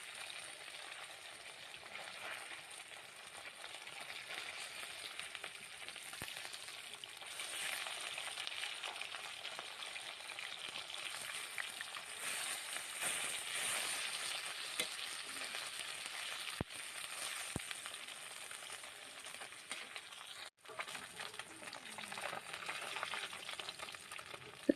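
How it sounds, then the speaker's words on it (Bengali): Khoira fish fry in small batches in oil in a wok, with a continuous, fairly loud sizzle and crackle that holds steady throughout, broken by a few sharp clicks. No voices. "দুবার মতো অল্প অল্প করে কড়াইতে দিয়ে ভেজে নেব"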